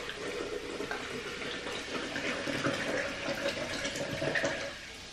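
Sparkling mineral water, half a litre, poured into a container for a homemade guaraná soda, giving a steady close splashing fizz with broadband hiss throughout.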